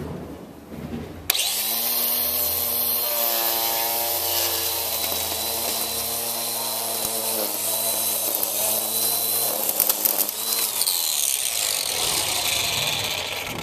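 A gas string trimmer starts up and runs steadily along a fence line in a lawn, a loud continuous engine whine with harmonic drone held for over ten seconds, close to the listener with slight pitch wavers as it works.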